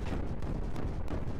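Giant explosion in the video game Creeper World 4, a dense, rumbling blast with repeated booming thuds rolling continuously at close range, loud and without talk.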